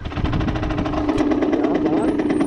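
Moped engine running, a steady close chugging putter with rhythmic pulses, with a voice speaking over it.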